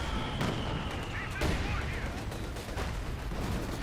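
A Jagdpanzer tank destroyer firing its gun in Company of Heroes 2, booming shots amid a continuous wash of battlefield gunfire and explosions, under a commentator's voice.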